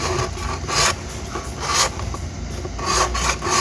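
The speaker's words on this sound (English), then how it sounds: "then I use a chisel upright" A chisel scrapes the old foam edge off a JL Audio 10W6 V2-D4 subwoofer cone, making close, rough rasping strokes that repeat about once a second, with no talking.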